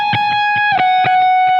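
Electric guitar with a driven effect playing a melodic phrase high on the neck, evenly picked notes and one sliding pitch change, ringing clearly and close with no voices.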